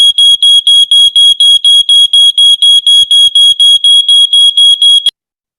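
A loud, high-pitched electronic smoke alarm beep repeats rapidly and evenly in a temporal pattern, about four per second, for five seconds, then stops abruptly into silence.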